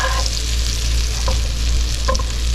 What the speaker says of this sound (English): So I'm going to start dropping them in. And I got a deep pan here